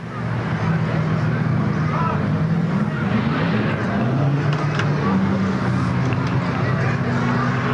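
A race car at a weekly racing series in Watsonville, California, roars steadily on the track, a continuous loud engine drone with shifting pitch as it passes, under a crowd-like wash.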